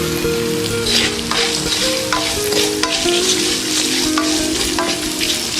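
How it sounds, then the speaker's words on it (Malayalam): Vegetables with curry leaves sautéing in a hot pan for a Kerala Onam stir-fry, a loud continuous sizzle with crackling pops and the scrape of a spoon stirring, steady throughout and close. "ഇതൊക്കെ കൂടി നന്നായിട്ടൊന്ന് വഴറ്റാം. നമുക്ക് കുറച്ച് കറിവേപ്പിലയും ഇട്ട് കൊടുക്കാം."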